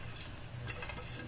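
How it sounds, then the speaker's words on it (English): Bean sprouts being stirred into sizzling laksa fried rice in a hot pan, a close, brief burst of crackling sizzle with tossing scrapes and no talking. "So let's put in the bean sprout."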